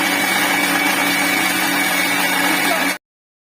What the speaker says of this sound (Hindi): पानी डालने के बाद मिक्सी को बिना रोके लगातार पीसना है